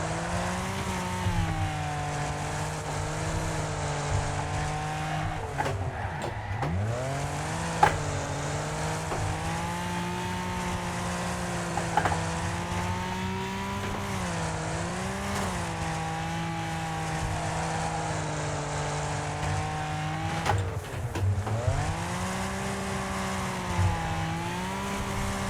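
Race cars roar around a track in the demolition racing game Wreckfest, a steady loud engine drone with pitch dips as drivers shift and brake, sustained near throughout with no talking.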